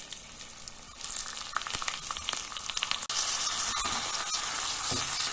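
Washed, drained basmati rice sizzles and crackles steadily in a hot pot as it is tossed, with brief stirring scrapes and a louder, denser frying hiss in the second half.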